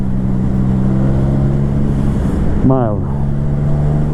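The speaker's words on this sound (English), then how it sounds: "Oh, I'm already in 6th gear, and I can ride like this at the speed of 75 kilometers per hour." A Yamaha MT-09 motorcycle cruises in sixth gear at about 75 km/h, its engine holding a steady, even drone close by while a rider talks over it.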